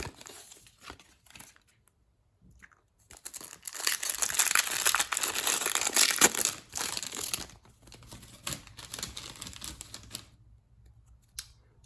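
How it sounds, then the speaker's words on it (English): Crinkling and tearing of a Magic: The Gathering Core 2021 booster pack's foil wrapper as it is opened by hand, quiet at first, then a loud, dense crackling burst lasting several seconds before easing into softer rustles. "next pack we have a Core 2021 booster pack"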